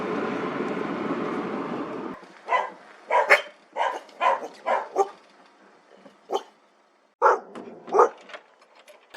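Working dog barking outdoors in rural Aveyron, a series of sharp separate barks in irregular bursts, moderately near, following a stretch of low rumbling noise.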